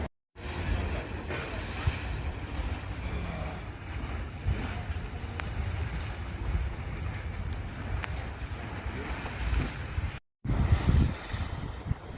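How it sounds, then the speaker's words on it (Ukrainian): Stormy Red Sea surf pounds the beach at Sharm el-Sheikh, a steady roar of waves mixed with heavy wind buffeting the microphone, continuous and loud with brief dropouts. "Оце бушує море на Рівбіч."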